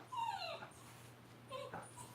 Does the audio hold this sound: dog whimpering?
yes